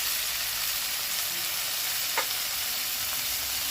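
Shrimp frying in a pan with turmeric powder and green chillies, a steady close sizzle with a faint stir scrape partway through.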